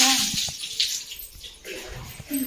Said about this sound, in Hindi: घर धो रही है